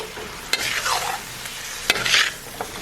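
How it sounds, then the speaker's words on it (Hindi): Chicken karahi is mixed in a pot with raw chicken and onion, giving close scraping and stirring strokes in a few bursts, with a faint sizzle between them and a couple of sharp taps. "अब इसको हम अच्छी तरह से मिक्स करते हैं"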